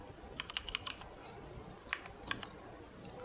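Typing C code on a computer keyboard: faint, quiet clusters of light key clicks in two short bursts over low background hiss.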